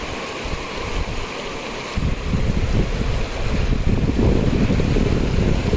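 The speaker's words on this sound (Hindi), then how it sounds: "अभी यहाँ पे फ्लो तेज है" Fast-flowing floodwater in a stream after a landslide near a jungle house roars steadily and loudly, with wind buffeting the microphone and the rushing growing heavier partway through.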